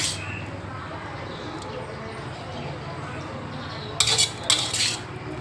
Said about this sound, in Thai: เสร็จแล้วนะคะเราก็ไปทำการตักใส่จานพร้อมเสิร์ฟ